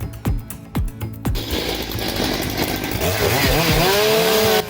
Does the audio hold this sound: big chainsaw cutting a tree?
yes